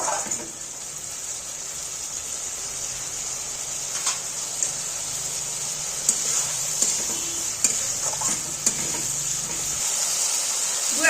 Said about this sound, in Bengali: মটরশুঁটিটা দিয়ে একটু 2-1 মিনিট নাড়াচাড়া করে নেব।